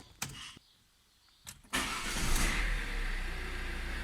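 A Fiat Tipo 1.6 Multijet diesel cranks briefly, then catches and settles into a loud, steady, low idle. A couple of faint clicks come first, and no one speaks.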